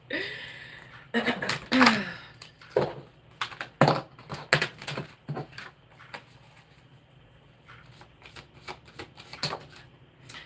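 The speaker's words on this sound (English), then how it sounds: "I have to put these back in here and reshuffle" A deck of tarot cards is handled and shuffled, with crisp flapping riffles and irregular papery slaps, some loud bursts early, softer ones later.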